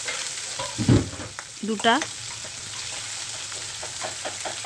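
Chopped onion dropped into hot oil with cumin sizzles loudly and steadily, with a burst as it hits the oil and brief stirring scrapes. A short spoken word comes partway through.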